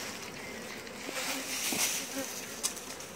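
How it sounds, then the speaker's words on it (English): Honey bees swarm around their queen in a dense, steady buzzing hum, close and continuous, with a few brief louder passes of individual bees. "I wonder if these other bees would take her."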